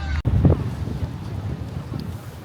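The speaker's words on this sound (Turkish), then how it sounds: "Şimdi burası çok rüzgarlı." Strong wind buffets the microphone in a steady low roar, with a brief dropout early on and faint murmuring beneath the gusts.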